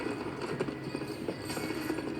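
Horse hooves clip-clop in a steady rhythm within a country-rap song, a continuous trotting beat under the music without pause.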